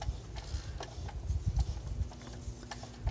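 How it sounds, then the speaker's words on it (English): A lathe chuck turned by hand to feed a tap into a workpiece gives a series of soft, irregular clicks and ticks over a low rumble, close and fairly quiet, with no talking. "the lathe chuck so that the tap is feeding right into the subject piece"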